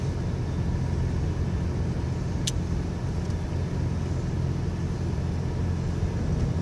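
A car rolls along Colorado Boulevard through downtown Spearfish, South Dakota, giving a steady low rumble of engine and road noise from inside the cabin with one brief high click, and no talking.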